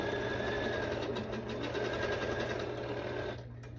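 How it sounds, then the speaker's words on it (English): Domestic sewing machine stitching fabric for a fitted cowl neck dress, a steady close motor whir with rapid needle chatter running continuously, easing off slightly near the end. "I'm just kind of maneuvering the fabric as I stitch, quickly getting those pins out of the way."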